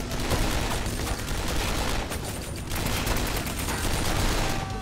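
Bolt-action rifle gunfire in the video game 7554 fills the scene as a dense, continuous barrage of shots and blasts, loud and close, with no pause.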